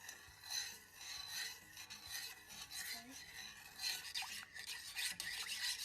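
Homemade chocolate drink powder being mixed slowly with a spoon, a close, dry rasping scrape that repeats in uneven strokes, moderately quiet and alone without talk.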